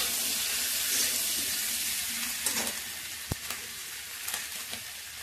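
Vegetables lightly frying in a pan for dry chilli chicken: a constant bright sizzle hisses close by, with a few sharp clinks and scrapes of stirring toward the end.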